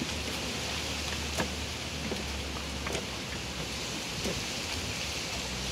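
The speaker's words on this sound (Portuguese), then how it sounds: "Ó a chuva chegando." Rain arrives at an outdoor apiary, a steady hiss of falling drops with a few sharp taps, alone and fairly close.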